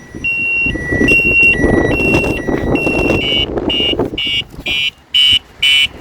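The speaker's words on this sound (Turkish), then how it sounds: "Aldı gidiyor. Alarm çalıyor." An electric scooter's anti-theft alarm (Onvo OV-012 X Plus) cycles loudly through shifting beeping tones, then settles into repeated short bursts of rising, pulsing wails close by.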